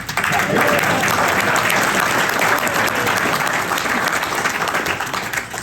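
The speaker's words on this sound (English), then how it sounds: "So a round of applause for how prophetic Pat." Audience at a cue makers hall of fame ceremony breaks into loud, sustained applause, a dense continuous wash of many hands clapping that holds steady and only begins to thin at the very end.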